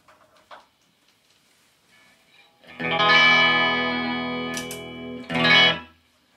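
An electric guitar chord rings out clean through a Fender Deluxe Tone Master amp, normal channel without reverb or vibrato, after some quiet fiddling, sustaining and fading slightly before a second strummed chord.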